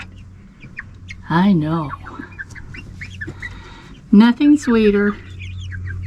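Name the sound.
baby chickens clucking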